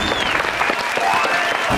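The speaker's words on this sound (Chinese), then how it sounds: "掌声鼓励" Studio audience applauding on a Taiwanese variety show, a dense, steady wash of clapping that fills the whole moment with no voices on top.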